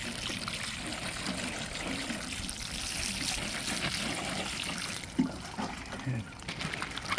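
Water runs and trickles steadily while freshly harvested garden cucumbers are washed, a continuous splashing wash close by, with a few knocks near the end.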